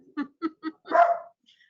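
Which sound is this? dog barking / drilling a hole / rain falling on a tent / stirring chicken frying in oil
dog barking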